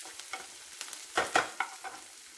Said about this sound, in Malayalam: നമ്മുടെ ഉള്ളിയും പച്ചമുളകും ഒക്കെ ഒന്ന് വഴന്നു വന്നിട്ടുണ്ട്.